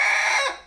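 A Rhode Island Red rooster named Pepper lets out a single loud, close, harsh call that fades out after about half a second, heard alone without talking.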